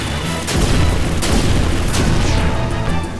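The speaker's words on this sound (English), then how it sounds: "Magma bomb. This is a new skill." A fiery Magma Bomb skill from the video game Chrono Cross goes off with a loud, deep booming blast that rumbles on for a few seconds, with sharp cracks layered over the sustained roar.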